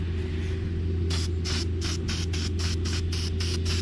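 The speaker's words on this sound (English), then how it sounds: "I think we might have to spray paint just a little bit more." Short bursts of aerosol spray paint hitting a toy snake to turn it black, about nine quick hissing puffs in a row after a brief pause, close and clear over a steady background hum.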